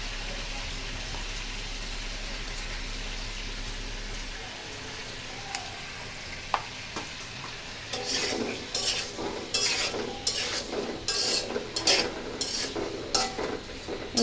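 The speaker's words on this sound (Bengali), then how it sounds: "এইভাবে শসাগুলো আমি ভেজে নেব" Cucumber slices seasoned with turmeric and salt fry in a pan for a hilsa fish dish: a quiet sizzle at first, then a run of brisk, rhythmic scraping strokes close by.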